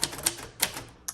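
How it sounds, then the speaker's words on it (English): A 1953 Royal Quiet Deluxe manual typewriter clacks through a few quiet, sharp keystrokes spaced unevenly over a second, close and alone. "So this is a great typewriter."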